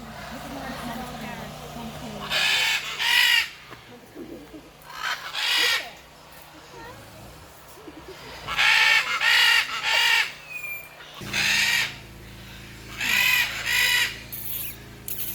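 Loud bursts of bird calls from rescued parrots at the Parrot Mountain aviary in Pigeon Forge, Tennessee, coming in clustered squawks and chatter over a busy outdoor background with people talking.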